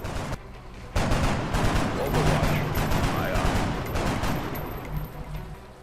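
Suppressing fire aimed at a Muton in XCOM: Enemy Unknown, heard as a dense, sustained volley of loud, close gunfire that starts after a short pause and keeps going.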